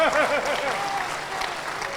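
An auditorium audience at a Hindi poetry recital claps in a short, steady burst, with a speaker's voice carrying over the applause at the start.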